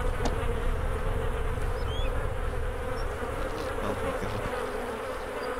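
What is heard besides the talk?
buzzing bees in the video game DayZ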